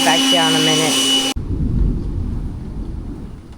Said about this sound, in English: You guys hear that thunder and lightning?